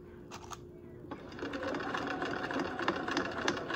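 A sewing machine stitches a straight seam through fabric, its needle running in a steady, fast mechanical chatter that holds close and clear to the end with no talk over it.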